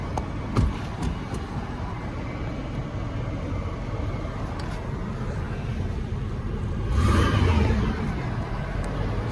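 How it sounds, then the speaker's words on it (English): A 1996 Buick Riviera's engine running, a steady low mechanical drone heard from the driver's seat, with a couple of faint clicks near the start and a brief swell in level partway through. "Car is running."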